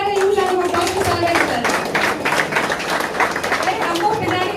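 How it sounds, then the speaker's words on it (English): A crowd claps for a car buyer at a Renault Kiger mass delivery event in Chennai, brisk, loud clapping running throughout with a voice speaking over it. "Can we hear a huge round of applause for sir?"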